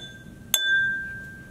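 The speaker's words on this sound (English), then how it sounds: "Tapping on the glass with a spoon causes particles of the jar to vibrate." A spoon strikes a water-filled drinking glass once, giving a single bright clink followed by a clear, sustained ringing tone that fades slowly, heard close and alone.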